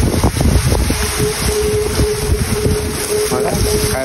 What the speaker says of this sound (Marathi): बघा काय पाऊस